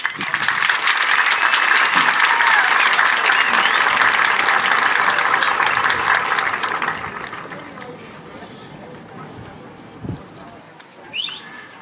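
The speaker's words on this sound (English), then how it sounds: "Please give these outstanding educators a round of applause." Audience at the Fremont Ross High School 2022 commencement applauds educators with several seconds of full, steady clapping that tapers off, leaving a quieter outdoor backdrop with pigeons cooing and birds chirping.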